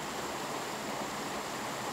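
A mountain stream flows in a continuous, full rushing of water, close and steady throughout with no voices.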